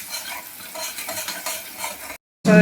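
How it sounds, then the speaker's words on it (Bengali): Spice mix with salt and a little sugar being stirred and sautéed in a pan, a steady scraping and soft sizzle for about two seconds, then a brief silence and a louder burst of frying at the end. "দিয়ে আমি একটু মশলাটাকে কষে নিই।"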